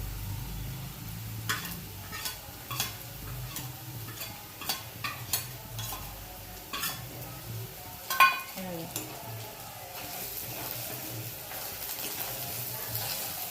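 Onions frying with thick red chutney in a pan, stirred steadily: a constant sizzle broken by repeated spatula scrapes and clicks, with one louder clank partway through. No voices.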